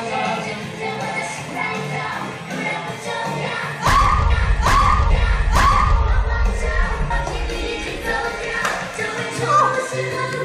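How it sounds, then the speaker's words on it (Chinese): Shouts and screams from a group during street dance practice, several sharp yells in a row over thumping movement and background noise. "练习过程充满了一连串的尖叫声"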